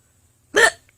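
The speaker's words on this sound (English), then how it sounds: "Well, I have hiccups." A single sharp hiccup breaks the quiet, close and loud, lasting only a moment.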